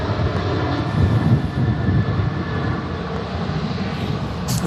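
A Singapore Airlines jet taxiing at Manchester Airport in stormy weather sends out a continuous jet engine roar at moderate distance, steady and unbroken, mixed with wind noise.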